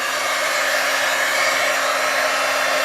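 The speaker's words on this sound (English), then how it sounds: "So I've got my Doris heat tool here. I'm just going to turn it on." A handheld heat embossing tool blows hot air in a loud, steady hiss, a constant whoosh with a faint motor hum underneath that stays even with no talking.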